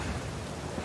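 Rain in the video game Uncharted 4 falls as a steady, dense hiss with a low rumble underneath, heard for just under a second with no voices.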